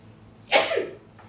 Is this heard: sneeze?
yes